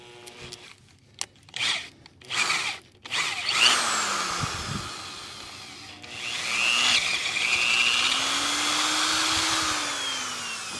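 A power drill bores through a laminated steel truck sub frame, starting with short stop-start bursts, then a long strained whine whose pitch sags and recovers under load, close and loud.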